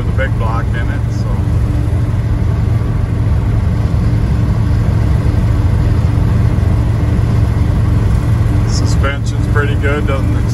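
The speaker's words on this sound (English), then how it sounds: "There's plenty of power with a big block in it" A 1972 Chevrolet C10 pickup's big-block engine rumbles steadily throughout from inside the moving truck, with a constant low drone and road noise; a voice talks briefly over it.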